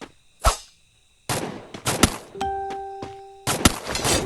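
Gunfire in a shooter video game: separate loud shots and short bursts with brief pauses between them, and a steady electronic tone partway through.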